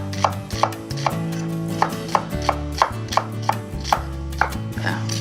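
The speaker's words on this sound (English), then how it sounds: "So let me cut a little bit of onion." Onion sliced with a knife on a cutting board, steady rhythmic chopping strikes, about a dozen crisp close taps over a low background hum.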